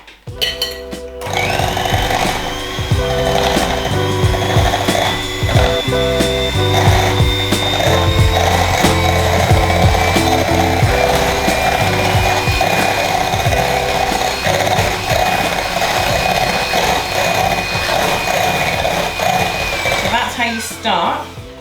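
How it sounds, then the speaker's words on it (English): Electric hand mixer whisking cream cheese into condensed milk for lime cheesecake shooters, a steady loud motor whir running continuously with a high whine under it. "you add the cream cheese to the condensed milk and you give it a good whisk"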